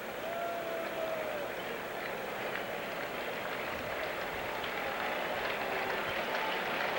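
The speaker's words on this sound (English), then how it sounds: "the jam-packed crowd here at Shea comes alive" A jam-packed baseball crowd at Shea Stadium roars steadily during a 1985 Expos–Mets game, a dense sustained wash of cheering and applause as the pitcher gets two strikes, with a faint distant voice underneath.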